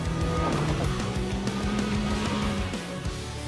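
A 2019 Yamaha YXZ1000R SS SE sport side-by-side drives along a trail, its engine loud and close, with rising and falling pitch as it accelerates and shifts, under a constant rush of noise.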